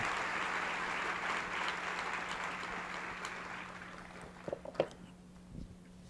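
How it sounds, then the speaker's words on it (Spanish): A church congregation claps together in a dense burst of applause that gradually thins out, ending in a few scattered claps, with a low hum underneath. "dele un aplauso al Señor"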